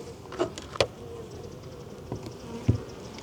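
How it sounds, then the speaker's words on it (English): Honey bees buzzing in an open hive of a full colony during winter, a soft, continuous hum with a few brief louder buzzes as single bees pass close by, no voices. "And we have a full colony of bees in here."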